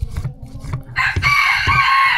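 Australorp chickens in a coop cluck repeatedly in low, close rhythmic bursts, while a louder, higher crowing-like call rings out over them in the second half.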